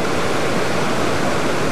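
A waterfall at Etive Mor in the Scottish Highlands rushes with a dense, steady roar. The loud, continuous noise fills the moment without pause or any voices.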